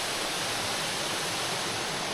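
A waterfall at Ragsak in Sigay, Ilocos Sur, roars as a steady, dense wash of rushing water, loud and close, with no voices.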